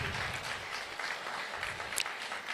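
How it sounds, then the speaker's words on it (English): An audience claps in continuous, dense applause, a steady wash of many hands that holds at even loudness throughout with no talking over it. "Another round of applause for him."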